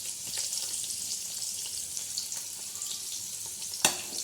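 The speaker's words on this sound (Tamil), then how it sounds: "பட்டை ஏலக்காய் கிராம்பு எல்லாத்தையும் நம்ம அதில் போட்டுருவோம்" Cinnamon, cardamom and cloves frying in hot oil for sweet pongal, a continuous close sizzle and crackle with faint scraping, one sharp clink near the end, no talking.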